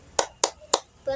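Three sharp, evenly spaced claps from a concentration clapping rhythm (tepuk konsentrasi) led for children before a story, close and crisp, followed by a brief voice at the end.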